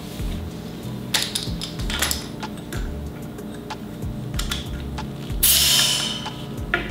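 Mechanical clicks, ticks and rattling clatter from a leaking air compressor as a lighter-duty air hose is plugged in, with repeated low thumps and a brief sharp hiss near the end; no one talks.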